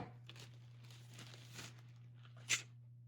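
A sealed plastic bag around a Creality Raptor X 3D scanner is cut open, giving soft close crinkling and rustling with a brief sharp snip or tear near the end, quiet and without talk.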